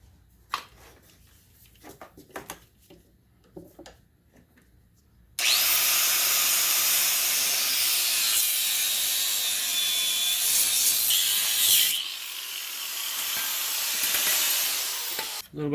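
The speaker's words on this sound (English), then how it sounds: "A little bit of help from the angle grinder." An angle grinder runs loud and steady at close range for several seconds, cuts out briefly, then resumes while working on an ATV A-arm bolt; scattered light clanks come before it starts.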